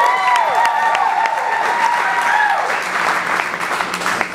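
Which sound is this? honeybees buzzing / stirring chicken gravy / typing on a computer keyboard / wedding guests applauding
wedding guests applauding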